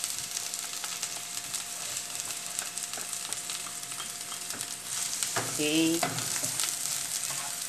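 Garlic and onions frying in a pan give a steady close sizzle with stirring clatter, and a voice briefly speaks partway through.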